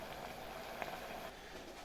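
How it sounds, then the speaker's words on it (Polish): Water boiling inside a 1972 GE.22-00 electric pot from the Żelazo-Cynk cooperative, a steady close bubbling hiss with small pops, running continuously for a couple of seconds with no voices. "tutaj się cały czas gotuje woda w środku"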